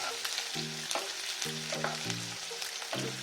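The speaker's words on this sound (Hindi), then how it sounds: "ऑनियन को अच्छे से फ्राई कर लेंगे।" Onion frying in a kadai, with a dense, close sizzle and stirring scrapes, while low tonal humming notes come and go underneath.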